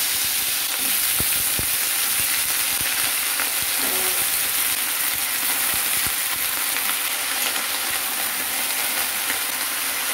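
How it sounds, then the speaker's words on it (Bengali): Vegetables with green chillies frying in hot oil, a loud, dense, continuous sizzle with small crackles and pops scattered through it and no voices. "তেলটা গরম হয়ে গেছে। এবার সব সবজিগুলোকে তুলে দিচ্ছি।"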